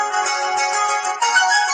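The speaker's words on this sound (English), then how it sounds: "I'm going to turn on my phone" Mobile phone powering on, giving a short bright electronic startup chime of layered tones that shifts pitch partway through, close and clear with no talk.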